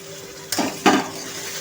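Hot water poured slowly in small amounts into semolina roasting in a hot pan for sooji halwa, giving two short bursts of sizzling and hissing against a quiet kitchen background.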